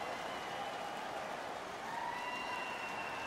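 A crowd cheers in the NHL 22 ice hockey video game as a steady, faint roar with applause-like texture that holds continuously in the background.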